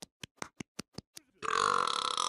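A man burps up close, first as a string of about seven short, sharp belches, then as one loud, sustained, drawn-out burp.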